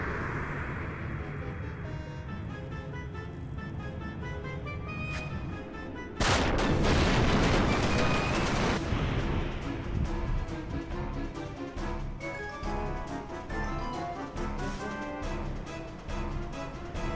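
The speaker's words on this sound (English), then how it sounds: "since when did she have grenades?" Grenade explosions in the video game Final Fantasy XI, a sudden loud burst of booming blasts amid busy game effects and music, followed by repeated sharp impacts.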